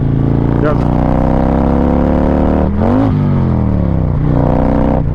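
A car engine drones loudly and close, revving and then dropping in pitch after a missed gear shift before climbing again, with a voice talking over it.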